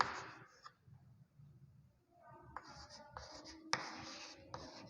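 Pen or pencil writing numbers by hand on paper during a maths lesson, a faint scratchy scribbling with short strokes and taps, quiet and close, with no talking.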